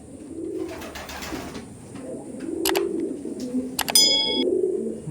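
Imported Giribaj pigeons coo in low, throaty rolls close by, with a few bright metallic clinks and a ringing ding cutting in near the end.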